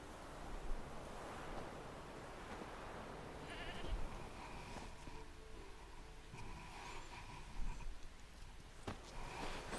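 In The Witcher 3, a goat tied to a stake bleats several times at moderate distance over a soft outdoor ambience.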